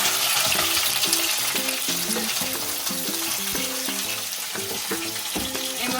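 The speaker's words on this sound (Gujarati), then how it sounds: "આ વેજીટેબલ કેપ્સિકમ અને ઓનિયન આપણે થોડા ફ્રાય કરીશું" Capsicum and onion fry in a pan while being stirred, a loud steady sizzle running throughout with repeated clinks and scrapes of a utensil against the pan.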